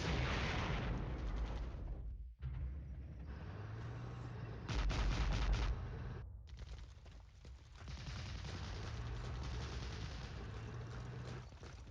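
Bradley chain guns fire in a war strategy game, bursts of rapid artillery-like shots and booms over a dense rumbling battle backdrop, with brief drops to near silence between volleys.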